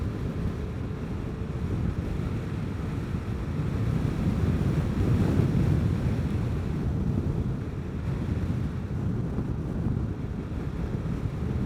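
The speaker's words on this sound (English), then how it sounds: "There's that headwind." Steady headwind buffeting the microphone while riding a Vespa GTS 300 Super Sport scooter, a continuous low roaring rush that swells slightly midway and never lets up.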